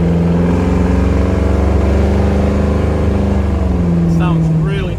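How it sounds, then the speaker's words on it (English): A 1967 Camaro drives along with its engine droning steadily through dual exhaust, a loud, continuous, even-pitched rumble throughout with no break. "It sounds really nice through the dual exhaust"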